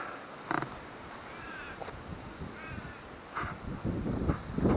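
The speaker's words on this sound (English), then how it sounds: "the birds are out there getting a feed with all the insects and the bugs" Birds caw and call over a freshly cut hay field, a few harsh cries rising above steady outdoor rumble and wind, moderately distant.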